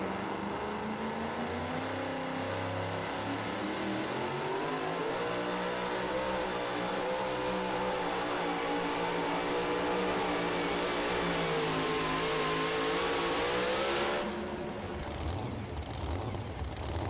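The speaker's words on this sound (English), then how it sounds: "One final time in our super modified two-wheel drive trucks from Altamont, Iowa" A super modified two-wheel drive pulling truck from Altamont, Iowa roars at a truck pull, its engine revving loud and sustained with rising, wavering pitch before abruptly cutting back near the end.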